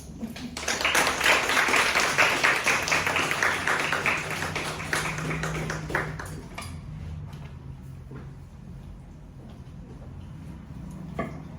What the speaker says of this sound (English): I hope that round of applause was for this young man